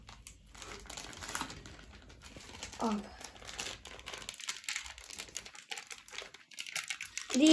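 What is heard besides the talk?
crinkling plastic bag of starch being emptied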